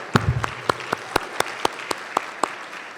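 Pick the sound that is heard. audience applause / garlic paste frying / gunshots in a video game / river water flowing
audience applause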